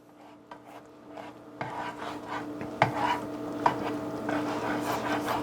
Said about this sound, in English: Just breaking up the little clumps here.